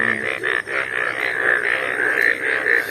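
Frogs croak after morning rain in a steady, continuous chorus of pulsed calls that overlap throughout, with no voices.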